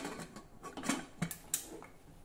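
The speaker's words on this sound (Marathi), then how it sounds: "कुकरचं झाकण बंद करूया" The lid of a pressure cooker being fitted and closed over mixed lentils, giving a few quiet metallic clicks and taps close by, with no talking.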